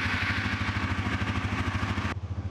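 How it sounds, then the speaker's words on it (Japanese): A large motorcycle engine, the helper bike in a jump start, runs with a loud, close, rhythmic chugging pulse that cuts off abruptly near the end. "まずは基本の基本としては救援車の方からエンジンをかけます"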